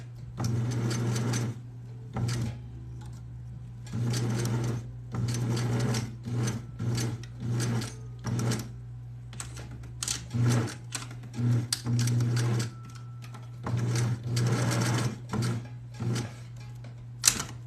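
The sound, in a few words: sewing machine stitching fabric for a bikini top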